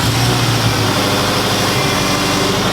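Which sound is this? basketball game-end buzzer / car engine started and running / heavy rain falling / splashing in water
car engine started and running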